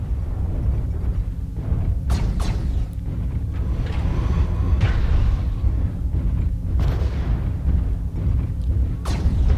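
Missile impacts and explosions batter a mech in the video game Mechwarrior Online, a continuous heavy rumble broken by several sharp, loud blasts at irregular intervals.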